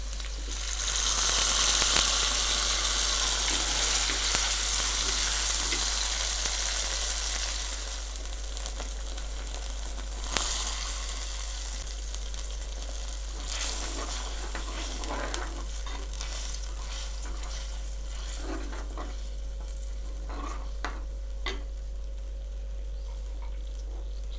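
Masala paste for a Kerala kudampuli fish curry hits a hot pan and sizzles, loud and hissing at first, then settling to a softer, steady frying crackle with small stirring noises and no talk.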